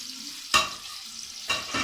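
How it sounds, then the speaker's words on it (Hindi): Chicken biryani ingredients being sautéed in a pan give two short, bright bursts of sizzling and stirring, close up with a quiet gap between them. "अब मैं हल्का सा इन्हें सॉटे कर लूँगा, यानी कि फ्राई कर लूँगा।"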